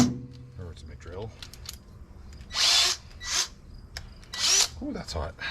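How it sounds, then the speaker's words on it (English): A hammer drill bores holes while a boat seat pedestal is being installed, giving three short, loud bursts of drilling separated by pauses, with quieter handling clatter and a voice speaking in between. "I'm on the hammer drill."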